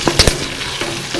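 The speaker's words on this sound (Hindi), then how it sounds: "तो ये देखिए चावल जो है वो" Rice for zeera chawal frying in a pan over low heat, a soft steady sizzle with a couple of brief stirring scrapes near the start.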